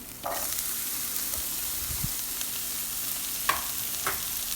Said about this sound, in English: Then add the vegetables along with the onion.